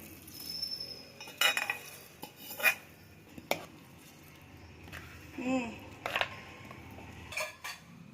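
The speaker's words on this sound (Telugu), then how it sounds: "ఇందులో పోపు వేసేద్దాం" Utensils clinking while tempering is added to mashed toor dal with gongura, several sharp metallic clinks and scrapes spaced irregularly over quiet kitchen background, some close and bright.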